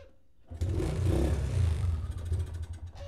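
Motorcycle engine converted to run on LPG gas fuel starts up after a brief quiet moment and keeps running close by with a rough, uneven idle, a low rumble with clattery mechanical texture.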